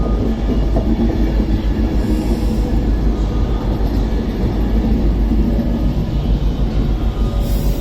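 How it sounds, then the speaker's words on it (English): A freight train runs from Felixstowe North to Trafford Park Euro Terminal through Stockport station on the West Coast Main Line, a loud, steady rumble of wagons rolling past close by for the whole stretch with no talk. "is our first freight train of the day, going from Felixstowe North to Trafford Park Euro Terminal."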